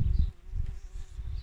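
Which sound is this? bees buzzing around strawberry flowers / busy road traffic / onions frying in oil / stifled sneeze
bees buzzing around strawberry flowers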